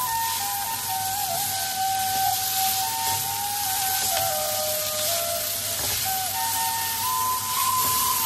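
Fourteen kinds of leafy greens fry in a pan with a continuous, even sizzling hiss. Faint tonal whines run steadily underneath.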